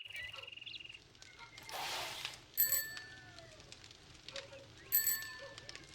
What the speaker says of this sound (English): I hit the bell.